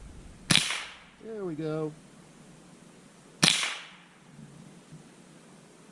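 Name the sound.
Smith & Wesson M&P 15-22 rifle shots at targets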